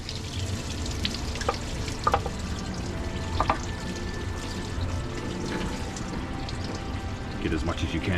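Coolant draining from the water pump of a 2013 Ram with a 5.7 HEMI, pouring steadily into a drain pan. A continuous, fairly loud wash of liquid runs the whole time, with a few brief clanks along the way.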